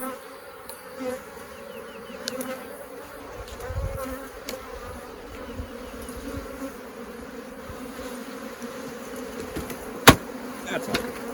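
Honeybees buzz steadily around an opened hive during a walkaway split, agitated by the beekeeper's smoker, with a continuous mid-level drone throughout and one sharp click near the end.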